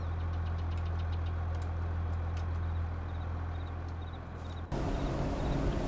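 An Allis-Chalmers 8070 combine engine in Farming Simulator idles with a steady low hum and faint knocking clicks, then abruptly shifts to a louder, brighter running note near the end.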